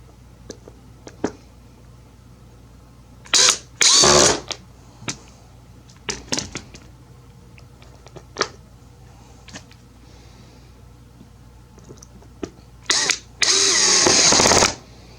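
A power drill drives screws into a Bowflex adjustable dumbbell in several short bursts, with a couple of longer whirring runs near the end, close and loud amid quieter clicks and handling noises.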